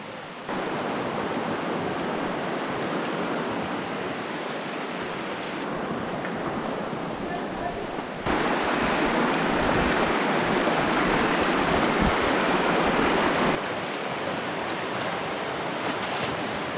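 River water in the Zion Narrows rushes steadily and loudly nearby, a dense unbroken wash that swells slightly partway through, with no voices over it.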